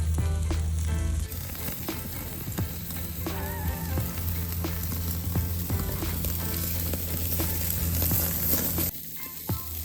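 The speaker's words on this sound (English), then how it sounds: "we're just gonna let her sit, guys, on this open flame, get that nice sear going." A tri-tip roast sears over an open flame, giving a loud, constant crackling sizzle with occasional pops and a steady low hum beneath, close and continuous throughout.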